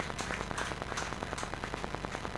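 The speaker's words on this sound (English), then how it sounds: "Please, a round of applause for him as he comes forward." Scattered applause rings out in a church hall in Lekki, Lagos during a career clinic as a man comes forward, faint, dense and evenly sustained with no talk over it.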